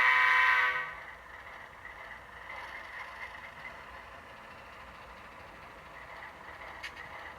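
A locomotive horn from the sound decoder in an N scale Kato Alco PA1 model gives one short, loud blast and then cuts off, leaving a faint background hum.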